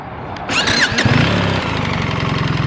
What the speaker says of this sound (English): Doing a quick start and sound check on this motorcycle.